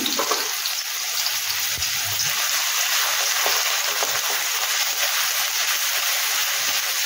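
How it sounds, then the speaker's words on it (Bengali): Half a medium-sized onion fries in a pan, a loud, steady, close sizzling hiss that holds constant throughout, with no voices. "এই যে পেঁয়াজটা ভাজছি"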